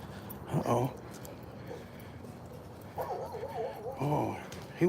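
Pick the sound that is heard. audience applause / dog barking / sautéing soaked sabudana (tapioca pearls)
dog barking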